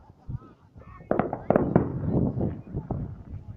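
Illegal fireworks go off in Las Vegas in 2018: a scattered run of sharp pops and crackling bursts at middle distance, with faint voices and honking-like calls mixed in.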